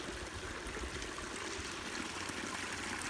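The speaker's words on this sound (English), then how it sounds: "So at least the water's flowing good." Creek water flows steadily through a culvert under a pasture bridge after rain, a constant broadband rushing and trickling wash that stays even and close with no voices.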